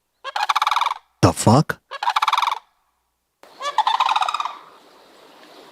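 Sandhill cranes give three rolling, trumpeting rattles, loud and fairly close, with a man's brief startled exclamation between the first and second calls.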